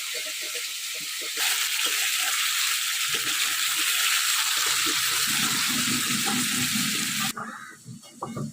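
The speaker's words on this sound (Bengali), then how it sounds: "বাম মাছ কড়া করে ভাজা খেতে সেই লাগে।" Bam fish (eel) frying in hot oil for a traditional Bengali village dish, a loud continuous crackling sizzle that swells after the first second and cuts off near the end, with low stirring and clatter underneath.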